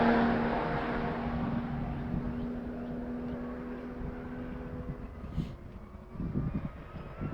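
A Toyota GR Supra race car on the Summit Point track roars past in a broad, rumbling engine wash that slowly fades, with a faint whine and distant noise from the circuit around it.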